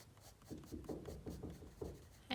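Polychromos colored pencils scratching on paper during coloring, a soft close-up rasp in short repeated strokes, faint and steady.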